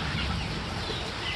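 Young chicks cluck softly at close range in El Salvador, short low clucks over a background hiss, with no talking.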